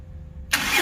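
A Tata Ace Gold BS6 mini truck engine fires up abruptly after a quiet moment, catching straight into a close, steady run.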